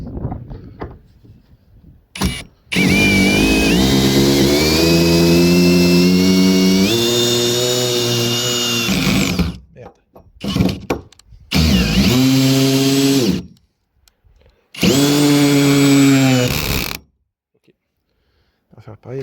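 Power drill driving long 8x200 screws into the wooden frame of an A-frame house, in three loud bursts whose whining motor pitch climbs and strains as each screw bites, separated by brief pauses and handling noises.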